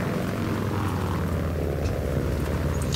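A propeller warplane in Battlefield 1943 drones continuously in a loud, steady engine roar with a dense buzzing hum, heard alone without speech.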